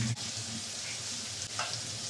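Bitter gourd fries in a pan with a soft, steady sizzling hiss, close and moderately quiet, with a couple of faint bumps of movement and no voices.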